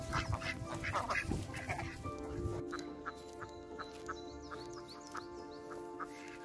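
Faint ducks quacking on a homestead, a run of short repeated quacks coming and going across the stretch, with quiet footsteps and light handling noise and no talk.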